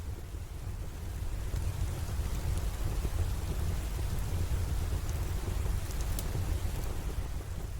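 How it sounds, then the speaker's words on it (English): Steady rain falls continuously, a dense, even hiss of drops on surfaces with a deep low rumble underneath, constant and moderately loud throughout with no voices. "The steady rhythm of rain continues, like a soft hush, soothing the edges of the evening."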